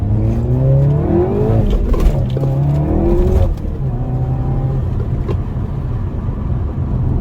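A Cupra car engine revs and accelerates normally with rising, shifting tones, heard from inside the vehicle, then settles into a steadier drone.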